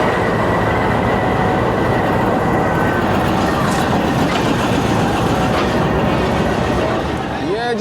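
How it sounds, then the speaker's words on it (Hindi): Pakistan Railways train led by locomotive 4557 hauling the 7 Up Tezgam pulling into platform 8 at Lahore station, a steady loud rumble of wheels and carriages with a faint squeal near the end, under station hubbub and voices. "8 नंबर प्लेटफॉर्म पे हमारी ट्रेन को लिया जा रही है"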